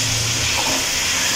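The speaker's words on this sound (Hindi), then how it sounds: "अब हम इसको अच्छी तरह ऐसे भून लेंगे।" Bone-in mutton shoulder frying in a pot over a medium flame, giving a loud, steady hiss and sizzle that fills the whole stretch without a break.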